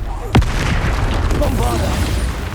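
Stupefy stunning spell cast in Hogwarts Legacy during a troll battle, a single sharp booming burst early on that sits over a loud, rumbling combat mix while a voice calls out.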